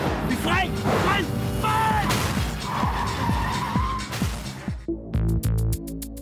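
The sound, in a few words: car braking hard with skidding tires during police chase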